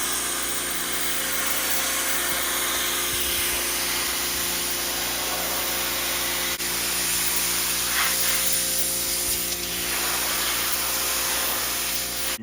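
A pressure washer sprays plain water onto an old deck in a loud, continuous hissing roar that holds steady for the whole stretch, close by with no talk.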